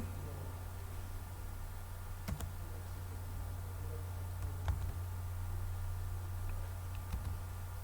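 A few sparse, faint keystrokes on a computer keyboard, spaced several seconds apart, over a steady low background hum; no one speaks.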